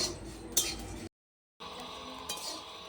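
Dry whole spices, bay leaves, about 8-10 dried red chillies, garam masala, black pepper, coriander, cumin and fennel, stirred in a pan while roasting, give light clinks and scrapes of a utensil against metal, with a short gap of silence partway through.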